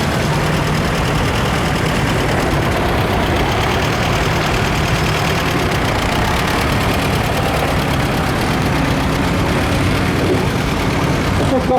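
A historic agricultural tractor engine runs in the arena parade at an autumn agricultural show, giving a loud, constant mechanical drone throughout while a voice talks over it.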